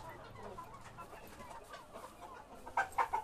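Chickens on a poultry farm make quiet background rustling, and a few distinct clucks come up near the end. Faint ambient activity surrounds them.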